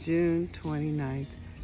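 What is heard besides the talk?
None of the usual background noises is heard.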